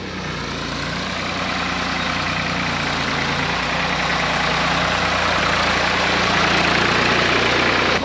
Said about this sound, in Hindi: अभी यहाँ जो वो ट्रैक्टर चला रहे हैं वो काफ़ी पुराना है